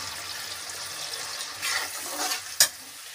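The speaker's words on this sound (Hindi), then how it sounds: "थोड़ा सा पानी और डाल देते दोस्तों जो मसाला सही भून जाए हमारा" Water splashes into a pan of sizzling spice masala for a mustard-leaf and mushroom saag, a steady frying hiss with a brief pouring surge late on and one sharp clink near the end.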